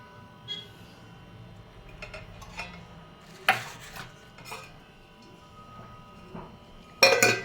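A metal pot and its lid are handled on a gas stove while kachnar buds are boiled for pickle, giving scattered clinks and scrapes with one sharp clang near the middle and a louder clatter at the end.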